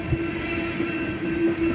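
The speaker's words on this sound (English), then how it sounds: "the trains that rumble through town" A train rumbles through the small rural town of Tamarack, Minnesota, as a loud continuous roar with a steady tonal hum and faint rhythmic clatter of rail cars passing close by.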